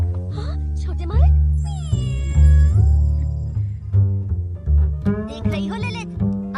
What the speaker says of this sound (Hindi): देख रही हो ललित, अब मैं बिल्लियों को बिना डरे हाथ लगा सकता हूँ।